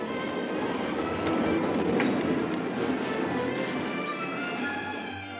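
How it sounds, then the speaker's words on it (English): A Key System electric train on third-rail track pulls into the East Bay Terminal. Its wheels rumble and clatter in a steady, fairly loud roar with no voices. "Here comes a Key System train pulling into the terminal"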